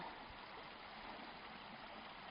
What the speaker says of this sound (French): ce beau petit ruisseau